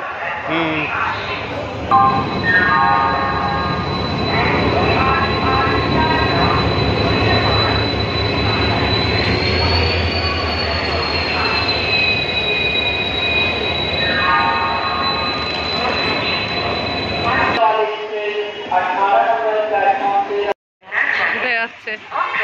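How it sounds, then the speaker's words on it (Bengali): A long-distance train to Tamil Nadu rolls into a platform at a large station, a loud, sustained rumble of wheels with sharp, drawn-out brake squeals, while people talk nearby and the noise drops off as it stops. "তামিলনাড়ু যাওয়ার ট্রেন ঢুকছে এখন 22 নম্বর প্ল্যাটফর্মে।"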